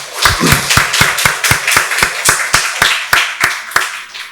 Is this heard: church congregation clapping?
yes